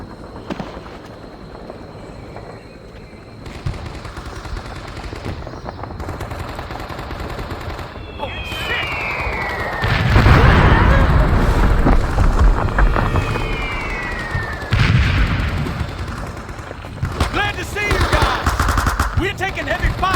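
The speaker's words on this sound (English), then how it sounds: "Taking heavy fire from that bunker." Heavy battlefield gunfire pours from a bunker in the World War II shooter Men of Valor, with sustained bursts, booming impacts and whistling rounds, loud and close throughout.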